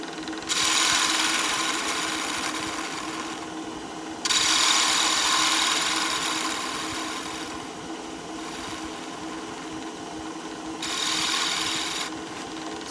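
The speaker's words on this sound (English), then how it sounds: "and then we're going to do some sanding." A wooden goblet is sanded on a spinning lathe in three long rasping bursts separated by brief pauses, over the steady hum of the motor.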